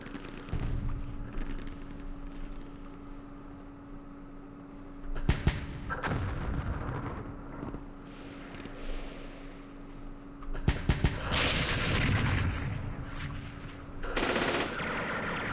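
Repeated gunfire and artillery blasts from the Campaign Series Vietnam wargame, set at Dien Bien Phu: scattered rapid bursts with a few sharp heavy reports, fairly loud over a steady background hum.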